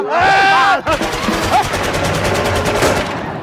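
Rapid gunfire bursts from a weapon in a comedy military scene, a loud sharp staccato rattle following a brief shout, close and harsh, with a voice groaning under it.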